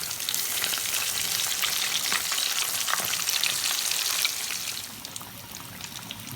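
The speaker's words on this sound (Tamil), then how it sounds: "இப்போ மீன் பொரிஞ்சுன்னு வருது" Fish frying in hot oil gives a dense, loud, continuous crackling sizzle close by, which eases off slightly toward the end.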